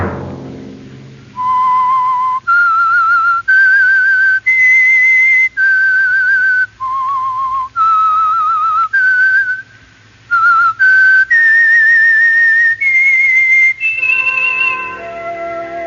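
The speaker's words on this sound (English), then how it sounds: "Let that whistle be your signal for the Signal Oil" A clear, loud whistled tune plays alone, a series of sustained notes stepping up and down in a short signal melody.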